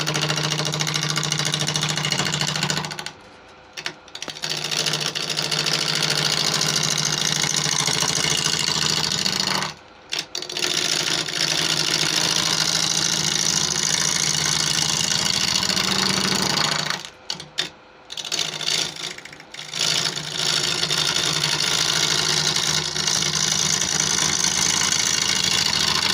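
Wood lathe turning a bocote bowl as a gouge cuts the spinning wood, giving a continuous rough, droning hiss that stops briefly a few times, with no talking.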